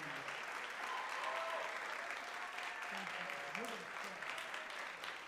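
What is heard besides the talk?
audience applause at an awards ceremony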